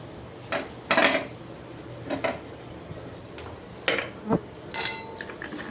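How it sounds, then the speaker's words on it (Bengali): Halwa stirred with powdered milk in a pan: irregular scraping clinks and knocks of a spoon against metal, a handful of separate strokes over quiet background, close by with no talking. "এখন গুঁড়া দুধ দিয়ে ভালোভাবে মিশিয়ে নিচ্ছি"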